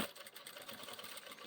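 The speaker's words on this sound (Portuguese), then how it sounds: "Passa uma costurinha bem na beiradinha." Sewing machine stitching a seam right along the edge of a fabric toiletry bag, a quiet, continuous rapid mechanical whir heard close up with no talking.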